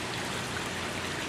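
Pumped water trickling and filtering down through cinder rock in an aquaponics grow bed, a brief, soft, steady hiss of running water with faint dribbling.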